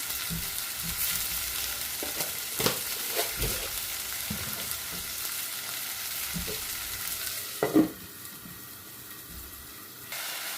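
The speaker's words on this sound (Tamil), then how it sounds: "இப்போ வந்து பார்த்தீங்கன்னா வெங்காயம் தக்காளி பழம் எல்லாம் வதங்கிட்டுது" Onions and tomatoes sautéing in a pan for brinjal curry, a steady close sizzle with intermittent scraping and stirring knocks, and a louder clatter near the end.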